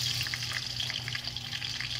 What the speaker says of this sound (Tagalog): Ang uunahin ko po muna ay ang ating patatas. Ayan. Parang ipa-fried ko muna siya ng konti.